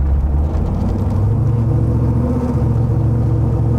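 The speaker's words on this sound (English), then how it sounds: "this is a whole new level again with the supercharger on it" Supercharged GM LT1 V8 in a Wildcat Defender 110 under way, a loud continuous low rumble and whir heard from inside the vehicle.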